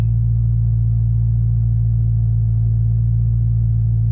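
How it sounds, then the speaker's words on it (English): A supercharged, tuned 4.2-liter V8 in an Audi B8.5 RS5 idles in traffic through a new JHM exhaust, giving a loud, steady, deep drone with no voices. "I'm gonna start this channel by basically making an intro while I'm in traffic listening to the new exhaust."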